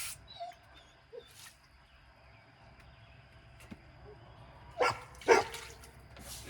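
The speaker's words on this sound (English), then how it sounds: "The dogs are over here trying to play with each other." Dogs trying to play with each other make soft whimpers and short yips, scattered and fairly quiet, with a couple of louder bursts near the end over a low background hum.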